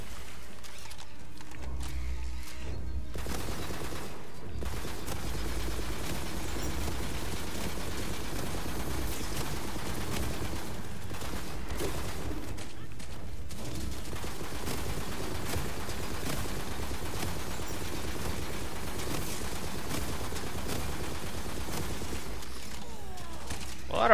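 Rapid SMG bursts in Tiny Tina's Wonderlands, firing in near-continuous rattling streams over busy game noise, with brief pauses between volleys.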